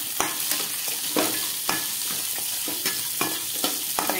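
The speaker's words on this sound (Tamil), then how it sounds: "வெங்காயம் நல்லா வதங்கிடுச்சு" Onions, green chillies and a lump of tamarind sauté in a pan for a village-style mint chutney, a steady broadband sizzle broken by sharp scraping stirs every half second or so, close and alone without any voices.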